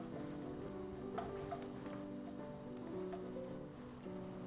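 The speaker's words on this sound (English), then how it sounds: "I am putting my garlic in the oil." Garlic cooking lightly in heated oil in a pan, a faint, steady crackling sizzle with tiny scattered pops, quiet and even throughout with no talking.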